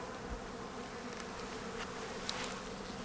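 Honey bees buzz inside an open hive around frames of brood, a soft steady hum with a few closer bees passing by, faint and continuous with no talking.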